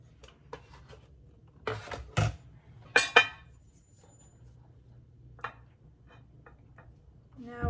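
Einkorn flatbread dough is mixed in a bowl, giving sparse clicks and a few sharper clinks of a utensil against the bowl over a quiet background.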